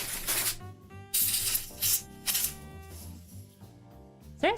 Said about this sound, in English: spray it a bit.